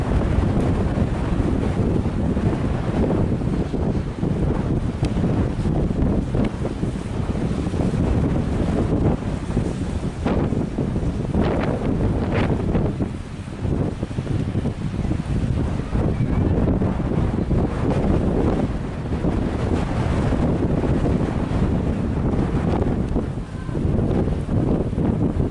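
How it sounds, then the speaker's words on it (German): Cold, fresh wind blows hard across an empty beach at Laboe, roaring steadily into the microphone for the whole stretch, with a faint wash of sea beneath it and no voices. "Es weht ein sehr, sehr frischer Wind oder Brise."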